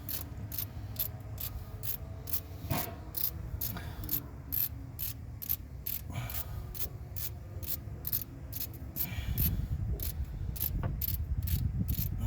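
Socket wrench turning in small increments to loosen a bolt on a 1997 Dodge Ram 2nd gen during an idle air control valve install, a steady run of rapid ratchet clicks with low engine-bay rumble beneath.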